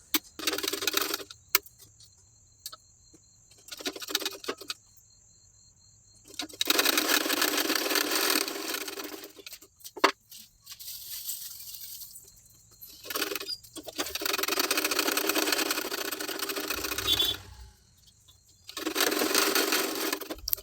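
A sewing machine stitches lining to main fabric in long, steady whirring runs separated by short pauses and clicks, close and fairly loud, with no talking.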